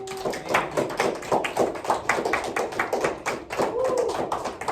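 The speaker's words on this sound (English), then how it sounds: "I want to give a round of applause to Mr. Adcock for giving us this opportunity" A small film crew claps and cheers in a round of applause for the man who gave them their opportunity, dense hand claps with some voices mixed in throughout.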